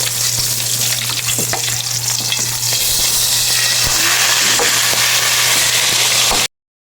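Dried fish (daing) frying in a pan with a loud, dense, continuous sizzle and crackle that stays close and steady, then cuts off abruptly near the end, with no voices.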